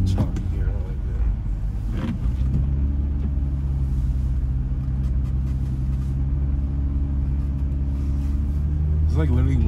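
A G35 6-speed coupe drifting slowly on an ice pad in third gear: a steady, loud low engine drone fills the cabin, with someone talking over it.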